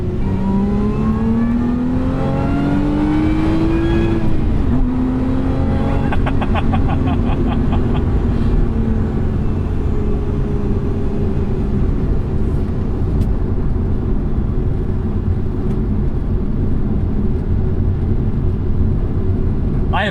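A 2024 Lotus Emira sports car accelerates in sport mode, engine pitch rising through the revs before a shift, then a sustained loud cabin roar mixed with road noise.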